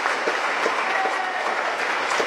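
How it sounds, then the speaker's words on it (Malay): A crowd claps for a politician and lawyers at a political rally, a brief, dense, loud burst of sustained applause with no break. "Jadi mohon supaya tepuk tangan kepada YB Gobin dan"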